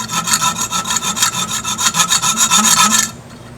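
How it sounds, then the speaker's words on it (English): A hand hacksaw cuts through a workpiece clamped in a vise during a model airliner build, about a dozen quick rhythmic rasping strokes close up before stopping abruptly. "with a vise and a hand hacksaw, handsaw, and you can just cut"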